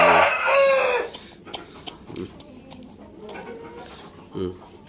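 A rooster crows close by at the start, a loud drawn-out call, followed by scattered clucks and faint outdoor background noise; chickens include Shamo, Aseel and Ayam Cemani breeds.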